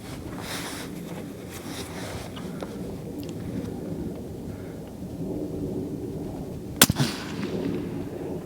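A long-range Creedmoor rifle shot rings off a steel plate target outdoors: one sharp, loud crack near the end, briefly echoing over steady low wind rumble.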